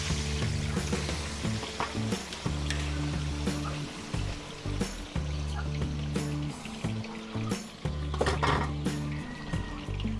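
Potatoes and carrots sizzle and crackle steadily in hot oil, a continuous frying hiss with occasional louder pops and stirring sounds, heard close up.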